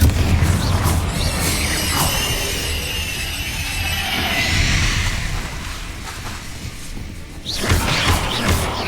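Confringo fire spells bursting in Hogwarts Legacy combat, a dense roar of booms and whooshing blasts layered over game music and ambience, with a fresh impact near the end.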